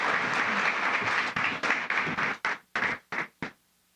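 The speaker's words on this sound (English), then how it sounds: "let's give a round of applause for these ladies with Ask Yourself Why Not podcast" A live audience at a community crowdfunding event applauds, the clapping dense at first and then breaking into several short bursts before it stops.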